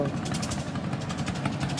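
A motorized river boat ferrying people across the water, its engine holding a steady, fairly loud drone with broadband rumble throughout the short stretch.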